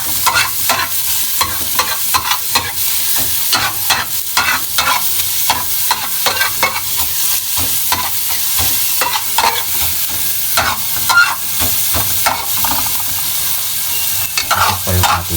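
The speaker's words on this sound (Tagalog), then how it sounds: "nilagay ko na po yung ating sibuyas." Onion sautéing for chop suey in a pan, a steady loud sizzle broken by frequent scraping stir strokes throughout, with no talking.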